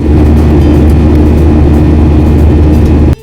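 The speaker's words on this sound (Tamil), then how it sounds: "டெல்லியில இருந்து சென்னை ஏர்போர்ட் வந்து ஃபிளைட் லேண்ட் ஆகுது." Passenger flight from Delhi landing at Chennai airport, a loud steady low engine roar heard from inside, unbroken for about three seconds before cutting off sharply.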